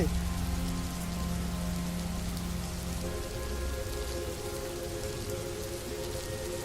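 Rain falls steadily on a surface in a storm, a dense even hiss of drops, while sustained tonal background notes drone underneath throughout.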